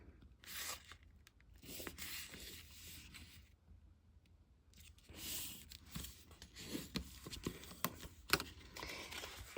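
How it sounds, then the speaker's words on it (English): Paper being folded and creased by hand for a cascade envelope book, soft crinkling and rustling in quiet bursts, close and faint with no talk. "So we're going to fold again"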